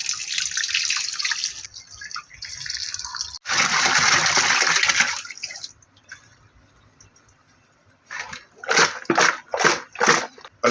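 Singhara catfish being rinsed in fresh water, with splashing and pouring water in bursts, a pause, then a run of short rhythmic splashes and drips close by; no speech.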